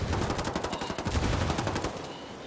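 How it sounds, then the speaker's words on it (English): Rapid automatic gunfire from the video game Ghost Recon rattles in a dense, continuous burst, crackling steadily and fairly close with no voices over it. "Taking fire."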